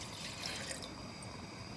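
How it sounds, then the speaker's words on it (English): Pre-made red raspberry leaf tea is poured into a cooking pot, giving a soft, steady liquid trickle and splash up close, faint and unbroken for a couple of seconds with no voices. "pour our pre-made red raspberry leaf tea into our pot and bring it to a boil"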